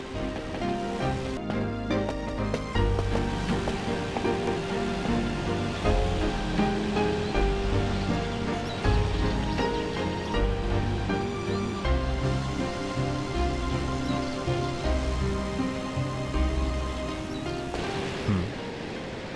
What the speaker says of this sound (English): What is that sound? It sounds like a waterfall.